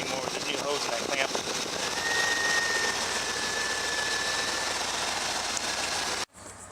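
A Honda Accord engine runs with a steady rough idle and faint high whine, close by, before cutting off abruptly at the end; a voice speaks briefly near the start.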